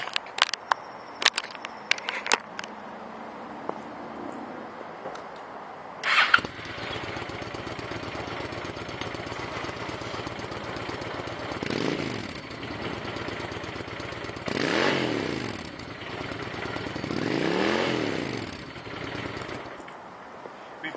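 A used 2009 Honda Shadow Spirit 750cc V-twin cruiser starts after a few clicks, then settles into a close, steady rumbling idle with several brief revs rising and falling.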